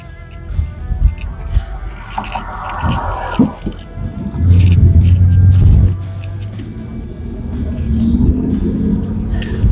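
A 1986 Lincoln LSC coupe's 5.0-liter HO V8 rumbles and revs as the car pulls away and drives, with a deep steady drone building louder toward the end.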